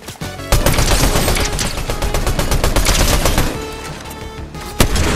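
Dense, loud gunfire crackles in a sniper-only video game match, a continuous barrage of rapid shots with sharper single cracks near the start and end, no speech over it.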